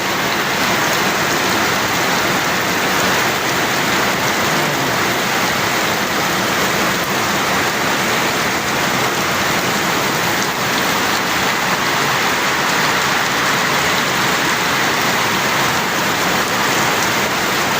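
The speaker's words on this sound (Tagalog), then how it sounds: "Grabe yung ulan, ang lakas." Heavy monsoon rain pours steadily near the mountains at Subic Bay, a loud, dense, unbroken roar of downpour with no pauses.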